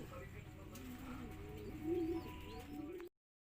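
Young racing pigeons coo softly in a loft, low rolling calls repeating against a noisy, fairly faint background.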